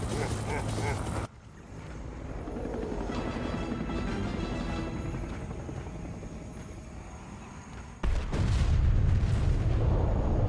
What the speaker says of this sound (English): With the ending nuke.